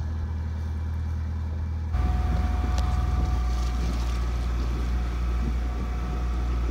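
Small ferry crossing toward Leros from Kalymnos on a windless day, its engine droning steadily and close, with rushing water and a louder surge after the first two seconds.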